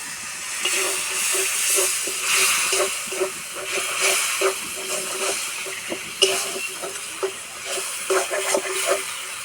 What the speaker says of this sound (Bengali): অল্প একটু জল দেবো।